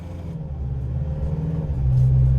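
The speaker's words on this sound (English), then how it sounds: "let's go ahead and take this 2023 Ultimate Limo Mercedes-Benz Sprinter out on the road for a test drive" A 2023 Mercedes-Benz Sprinter Ultimate Limo van rolls along the road, its engine a steady low rumble heard from inside the cabin, swelling slightly louder near the end.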